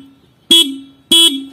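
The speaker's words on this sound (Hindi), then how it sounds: "ये हॉर्न" Two short, loud honks sound close up from the horn of a 2021 TVS Ntorq 125 Race Edition BS6 scooter, spaced about half a second apart.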